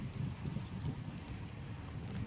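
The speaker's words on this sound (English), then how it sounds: "I apologize for the wind." Low, rumbling wind buffets the microphone continuously outdoors in Nevada, a dense blustery roar with no voices.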